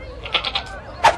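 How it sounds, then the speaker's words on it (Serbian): A goat bleats in a few short, quavering calls close by, then gives one louder, higher bleat near the end, heard alone with no talking. "Pokušavam da uhvatim svoju kozu."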